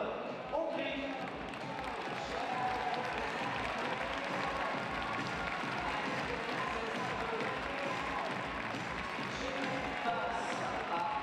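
A large fencing arena crowd at the Orléans 2018 sabre World Cup final gives sustained applause for Hungarian fencer Anna Marton. Dense, even clapping carries a rhythmic pulse throughout, with a faint cheer mixed in.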